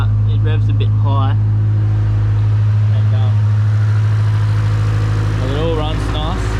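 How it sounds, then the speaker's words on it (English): A Nissan 180SX running on E85 idles at a high, steady rev just after start-up, its strong low engine drone constant throughout while someone talks over it. "when you first start it up, it revs a bit high,"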